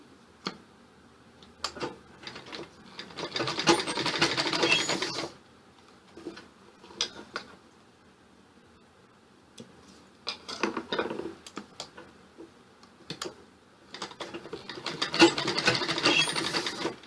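A sewing machine stitching an A-line suit runs in several bursts of rapid, steady mechanical ticking, pausing with softer clicks and handling sounds between runs, fairly close and without talk.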